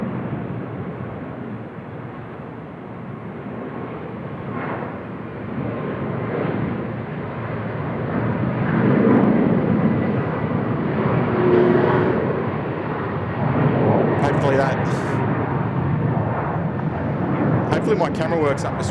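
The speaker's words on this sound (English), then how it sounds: "watch them stick the landing here" An airliner landing at Seoul Incheon Airport: a broad jet roar swells toward the middle and stays heavy, heard from a distance, with a voice talking faintly over it.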